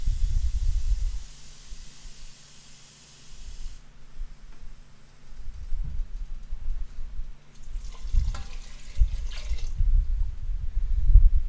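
Water pours into a pot for rice with pigeon peas, a steady hissing stream that pauses, then resumes in bursts with low rumbling splashes, close by and with no talk.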